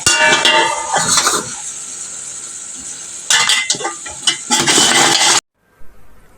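Chaap recipe ingredients are stirred in a pot, with loud scraping bursts of a spoon against the metal, then a quieter stretch, more vigorous scraping, and an abrupt stop near the end.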